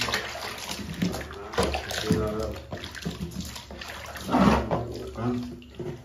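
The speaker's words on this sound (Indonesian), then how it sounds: "Nah, kita siram lagi." Water is poured over the face of an ondel-ondel mask to rinse it, with gushing splashes coming in uneven bursts, while a person talks over the pouring.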